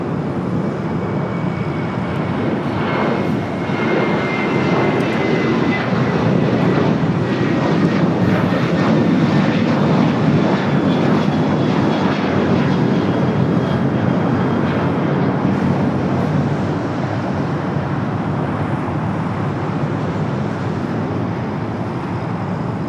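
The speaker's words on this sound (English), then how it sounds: "Our next takeoff is at DHL Singapore 777 freighter." A DHL Singapore Boeing 777 freighter takes off at LAX, its jet engines roaring loud and continuous for over twenty seconds, swelling slightly in the middle and easing toward the end.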